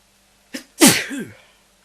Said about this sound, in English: Sorry, I just had to sneeze.